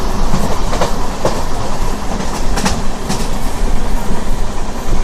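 A crowded general-class passenger train runs on the New Delhi–Chennai route while overtaking another passenger train near Khammam, giving a loud, continuous rumble and steady clickety-clack of wheels close by, with no voices.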